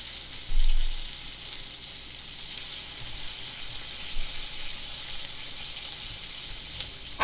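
A T-bone steak sizzles in a cast iron skillet with a steady, close, bright hiss that holds evenly throughout, with a soft bump near the start and no voices.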